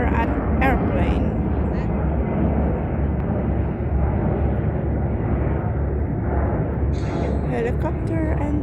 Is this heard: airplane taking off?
yes